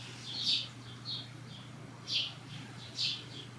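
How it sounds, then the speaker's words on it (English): Small birds give high, thin chirps in short scattered bursts, some clustered in quick pairs, faint and a little distant over a low, steady background hum. "enjoy the sound of the birds chirping as the outro"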